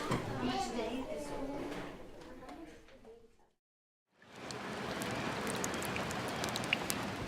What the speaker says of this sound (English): As the rain pours